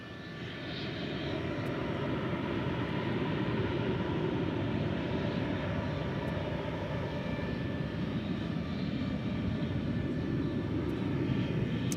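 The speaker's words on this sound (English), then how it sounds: "This one going to San Diego, California, an A321." An Airbus A321 airliner at DFW airport, bound for San Diego, gives off a loud, steady jet engine roar that swells in the first second and then holds at full strength throughout, with no voices.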